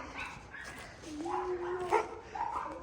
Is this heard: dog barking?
yes